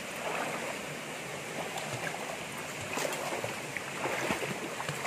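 Water of a stream on a three-hectare farm lot near a waterfall rushes and splashes in a steady, dense wash, close and continuous with no voices.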